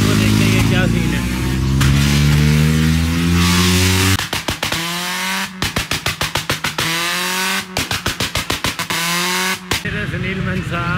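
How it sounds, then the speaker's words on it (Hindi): A Nissan GT-R engine revs hard in a series of sharp bursts, rising pitch then rapid on-off throttle blips with limiter-like stutters, loud and close with no voices on top. "इंजन है भाई माशाल्लाह से GTR चेक कर सकते हो आप"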